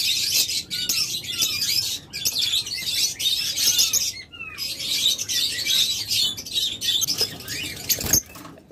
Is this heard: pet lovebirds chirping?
yes